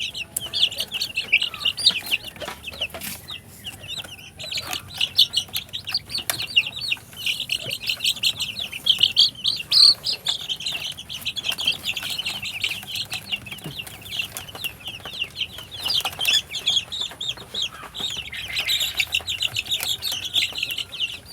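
Young chicks chirp and cheep constantly up close, with a dense, high peeping chorus, occasional wing flutters and handling noises as they are moved into another cage on a farm.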